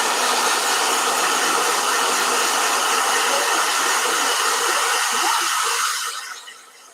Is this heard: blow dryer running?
yes